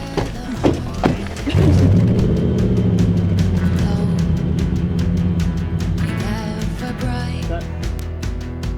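A Nissan Titan pickup truck starts up and drives off road, its engine humming steadily up close with mechanical clicks and rattles over the top. Faint voices come in briefly.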